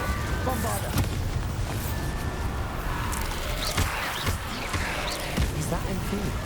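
Bombarda blasts and other spell effects in the wizarding game Hogwarts Legacy, a string of booming bursts and crackles amid continuous combat noise, with voiced spell shouts heard over it.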